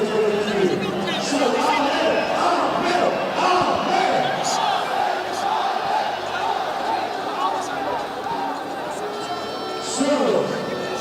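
A boxing arena crowd cheering after an Amir Khan fight against Billy Dib, a loud dense roar of many voices with shouts and scattered claps, sustained throughout with a commentator's voice mixed in.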